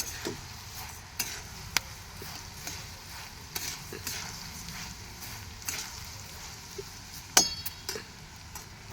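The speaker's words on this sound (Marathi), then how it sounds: "मस्त धनं भाजून घेऊ" Coriander seeds dry roasting in a pan for homemade spice mix, giving a faint, steady scratchy rustle as they are stirred, with scattered light clinks and taps of the utensil against the pan.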